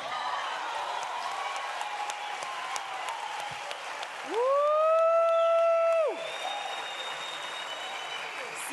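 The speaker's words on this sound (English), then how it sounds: "Ladies and gentlemen, one more round of applause." Concert audience applauding a group: a dense, steady wash of clapping and crowd noise throughout, with a sustained tonal whine rising above it midway before dropping away.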